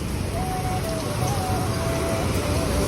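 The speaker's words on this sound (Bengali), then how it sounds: "আহা বৃষ্টি পড়তেছে" Rain falls steadily, making a dense, even patter that fills the whole stretch without pause, with a faint tonal hum running underneath.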